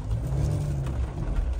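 Engine of a stuck Mahindra Thar 4x4 off-roader, a deep steady low rumble held close and loud with slight swells in revs, no voices.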